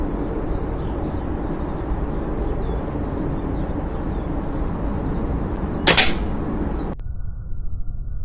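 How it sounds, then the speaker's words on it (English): An air rifle pellet hits a metal target with a single sharp metallic bang that cuts through a steady outdoor hiss, ringing briefly before the background drops quieter. "It sounds like a different sort of bang when it hits the metal"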